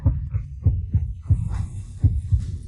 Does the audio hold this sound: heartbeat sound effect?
yes